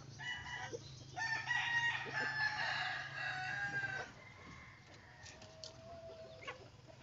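Black Australorp and Rhode Island chickens cluck and crow close by in a steady, busy flock chorus over a low background hum, quieting somewhat partway through.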